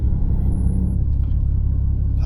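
A tuned BMW M240i with a custom Stage 2 engine and gearbox tune rumbles steadily up close, its exhaust note deep and loud throughout, with no distinct pops standing out.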